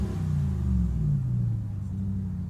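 A truck engine at a Texas truck rodeo, heard from inside the cab, revs in a deep, steady rumble that swells and eases over a couple of seconds, close and fairly loud with no talking.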